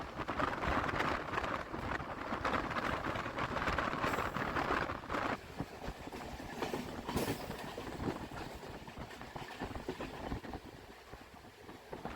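MEMU passenger train running through Chandpur station without stopping on the Santragachi to Jhargram line, a loud steady rumble and clatter of wheels close by with wind noise, fading slightly toward the end.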